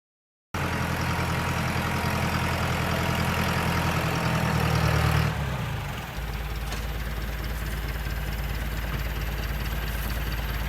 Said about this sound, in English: this is a tractor-mounted wood chipper that I got about 3 years ago now, and it works very well. I thought you might like to see it in action.